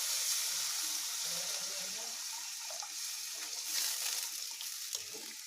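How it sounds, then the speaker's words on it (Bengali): Water poured into a pan of frying rui fish malai curry, a steady hissing sizzle with faint bubbling and stirring, close and continuous without speech. "এখন পরিমাণ মতো জল দিয়ে দিচ্ছি।"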